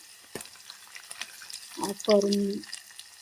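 Onions frying in a pan with leafy greens and broad beans, a soft sizzle with a few stirring scrapes and a brief running-water burst near the end, with faint voices.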